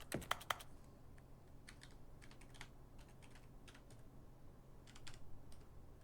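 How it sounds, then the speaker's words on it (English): Rapid keyboard typing in The Stanley Parable: Ultra Deluxe, with quick clusters of crisp key clicks separated by short pauses, close and fairly quiet against a low hum. "Typing it in, of course."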